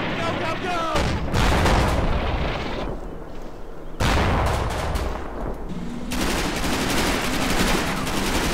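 Heavy bursts of small-arms and artillery fire in the WWII strategy game Combat Mission Market Garden, loud and continuous with sharp onsets and rumbling blasts throughout.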